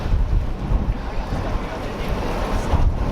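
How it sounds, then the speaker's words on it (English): A water taxi speeds along the New River toward Lauderdale, its engine and hull wash a broad, rushing roar mixed with heavy wind buffeting the microphone, steady and fairly close throughout. "You have a water taxi coming down there, and he's booking it."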